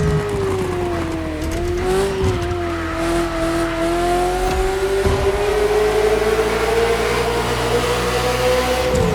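A Ferrari F40 driving in The Crew Motorfest, its engine droning loud and steady with a shifting pitch and occasional tire noise, close and continuous with no talk.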